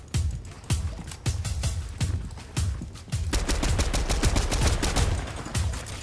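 Enemy gunfire in the Unreal video game, starting as spaced single shots, then growing into a steady, rapid stream of close, loud reports.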